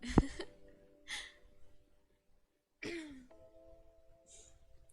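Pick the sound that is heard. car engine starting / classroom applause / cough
cough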